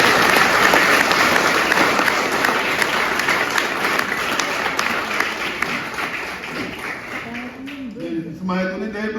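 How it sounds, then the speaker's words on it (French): A Mass congregation applauds the church choir in loud, dense clapping that slowly fades toward the end, where a voice begins to speak. "j'allais aussi demander à ce qu'on applaudisse fort pour la chorale"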